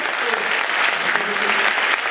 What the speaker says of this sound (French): Le mot fin s'est suivi d'une longue salve d'applaudissements dans une salle remplie